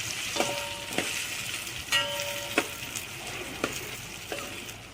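Kathiyawadi-style stuffed okra frying in a pan, a soft steady sizzle broken by about six distinct scraping stirs of a spoon, close by and fairly quiet.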